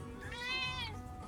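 A single drawn-out cat meow, fairly faint, rising and falling over about half a second against low background noise.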